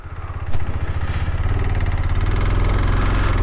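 A motorcycle engine idles and runs steadily on a rough mountain road in Zanskar, Ladakh, a loud, close, continuous low throbbing drone with a rapid pulsing beat, slightly rising after a brief bump early on.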